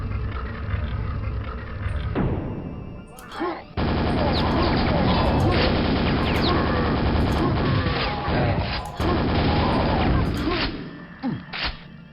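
Grenade explosions in the Jump Mod 2 video game come as heavy booming blasts amid dense, continuous combat noise, with sharp bursts near the start, in the middle and toward the end.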